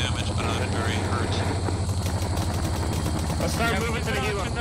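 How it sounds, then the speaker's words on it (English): A Chinook helicopter in the video game Arma 3 thumps with a steady, pulsing rotor drone that fills the whole stretch, and voices talk over it. "We have Chinook coming in."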